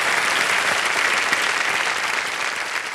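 A television quiz-show studio audience claps continuously, a dense, steady wash of applause that stays loud and even throughout, with no voices standing out.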